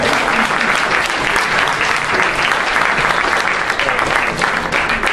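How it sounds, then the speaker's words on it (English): Audience at a healthcare forum breaks into loud, dense applause, a steady wash of close clapping that holds throughout with little variation. "A round of applause for the press."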